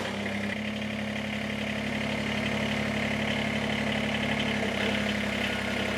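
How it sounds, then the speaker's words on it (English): A Kubota tractor engine starts and idles with a steady low rumble and drone, constant and fairly loud throughout, with no speech. "hop up on the tractor and then start it up and then drop the blower."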